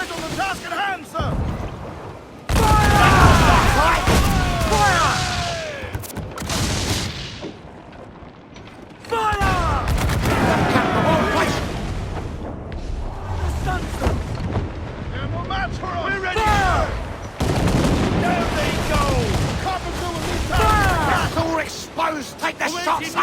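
Ship cannon fire and gunfire in a naval battle in Assassin's Creed IV Black Flag, loud booming blasts and crackling shots in bursts amid wind and sea noise, with shouted crew voices throughout.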